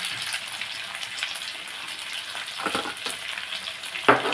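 Chicken frying in a pan while chilli powder, coriander powder, cumin powder and homemade garam masala are stirred in, giving a steady close sizzle with scraping stirs and a sharp clatter near the end.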